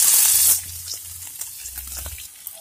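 Onions drop into hot oil with a loud initial hiss that quickly settles into a softer, steady sizzle with occasional light crackles, with no voices.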